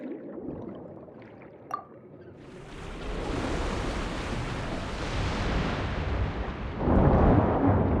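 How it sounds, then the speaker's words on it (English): Water rushing in through a sluice gate to fill an empty chamber in a video game, a loud broadband roar that starts after a brief quiet moment with a small click and swells, growing louder toward the end. "That will fill the empty middle chamber with water."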